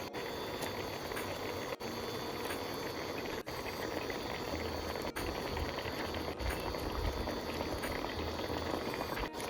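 Curd gravy for doi katla boils steadily in a pan, a continuous dense bubbling hiss that stays close and even throughout with no talk, broken only by a few faint clicks.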